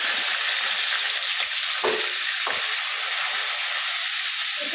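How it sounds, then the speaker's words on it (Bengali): Ginger and green chili paste sizzles hard in hot oil, a steady loud hiss with a couple of brief sputtering bursts, no voices. "এবার আমি আদা কাঁচা লঙ্কা বাটাটা তেলের মধ্যে দিই"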